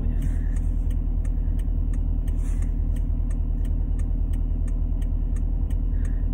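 A car engine runs at a steady idle, a loud low rumble with an even rhythmic pulse and faint higher ticking throughout, no voices present.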